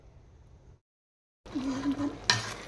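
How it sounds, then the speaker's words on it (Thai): Minced pork is stir-fried in a pan for a simple home-cooked dish, heard as a sharp sizzle and scraping stir after a brief silence, with a louder clatter near the end. "เอาหมูบดมาผัดผัดอย่างนี้นะ"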